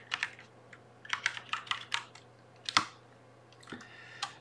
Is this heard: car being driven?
no